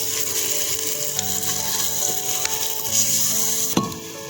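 Onion, tomato and masala fry in a pan over a wood fire in a village kitchen, giving a steady close sizzle with a few scraping stirs and one sharp knock near the end.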